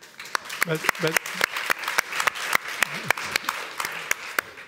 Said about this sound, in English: I'm not here for the applause.